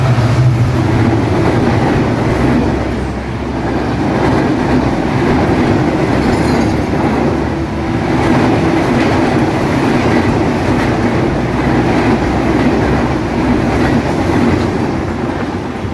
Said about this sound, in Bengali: ঢাকাগামী সাতশো ষাট down Padma express Azimnagar railway স্টেশনের এক নম্বর লাইন থ্রু পাস করে চলে যাচ্ছে